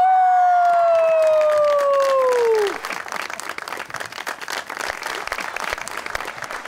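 A studio audience on a Pakistani fashion talk show breaks into applause after a sustained musical tone fades, the clapping dense and steady for several seconds.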